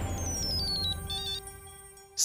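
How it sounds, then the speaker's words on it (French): A telephone rings with a bright electronic ringtone, a repeating descending melodic pattern heard close and clear on its own, ending in a brief louder burst. "Allez, Raj, décroche ce téléphone"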